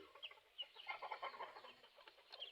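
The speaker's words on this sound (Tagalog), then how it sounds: "Yung mga sisiyo natin." Chicks and hens in a chicken coop give soft, high peeping and clucking sounds, faint and fairly distant, with short calls scattered irregularly and no talking.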